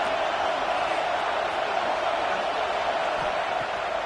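A stadium crowd roars steadily during a third-down play in American football, a dense continuous wash of noise with no breaks, loud and unchanging throughout.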